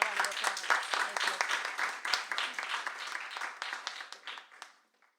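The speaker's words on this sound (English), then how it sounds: "And a round of applause." A small audience at an author reading in Skylight Books applauds with distinct, individual claps that are lively at first, then taper off and fade out.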